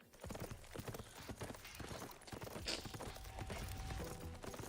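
Horse hooves galloping in a video game, a fast continuous clatter of clip-clop beats over a busy, dense background, steady and fairly loud throughout without talking.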